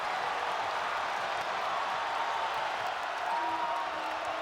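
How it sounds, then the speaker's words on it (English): A packed college basketball arena crowd at PNC roars steadily after a basket in a Duke versus NC State game, a broad, sustained wash of cheering heard from a distance. "this crowd is alive in a very big way tonight at PNC"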